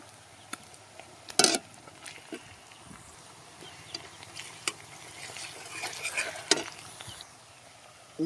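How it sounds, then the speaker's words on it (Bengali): Onions frying in a pan with garlic paste, a soft sizzle with scattered clinks and scrapes of a spatula stirring against the pan, faint and close, with no talk. "পেঁয়াজটাকে লাল লাল করে ভেজে নেব।"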